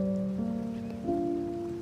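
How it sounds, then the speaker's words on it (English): Soft rain patters in the background of a rain meditation sound bath, a steady gentle wash under sustained tonal notes that shift pitch twice. "Rain meditation, rain bath, sound bath."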